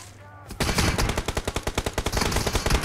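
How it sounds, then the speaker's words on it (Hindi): Rapid automatic gunfire rings out in a PUBG Mobile match played on an iPad mini 6. After a brief quiet start, loud, close bursts rattle on in a fast, steady rhythm. "पीछे से चलती है गोलियां"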